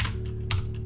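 Keystrokes on a computer keyboard come in a few quick bursts of clicks over a steady low hum, close and moderately loud.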